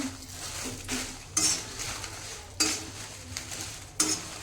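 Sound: dried red chillies roasting in oil

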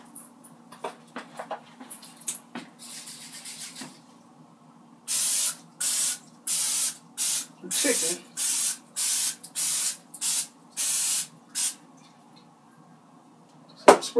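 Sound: spraying cooking oil spray

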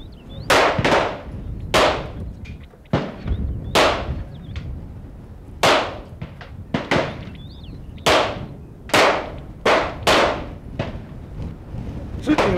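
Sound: pistol gunshots at a shooting range

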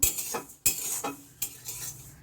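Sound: sesame seeds lightly frying in a wok

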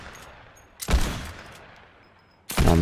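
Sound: gunfire in a video game

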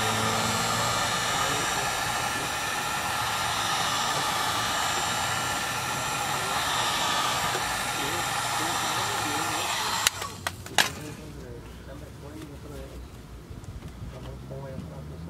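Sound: heat gun blowing on tinted Mustang reverse light

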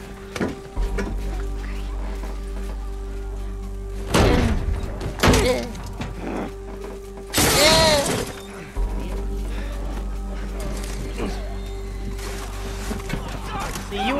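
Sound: glass shattering in The Last of Us video game

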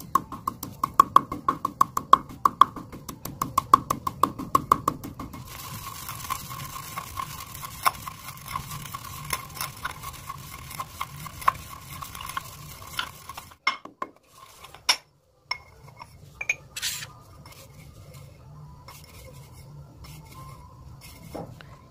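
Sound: crushing sesame seeds

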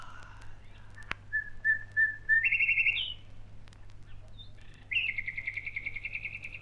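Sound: nightingale singing, in an audio drama

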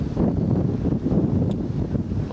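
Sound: wind at sea aboard a ship

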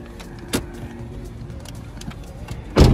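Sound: small car on the way to the airport

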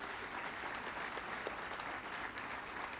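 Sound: audience applause

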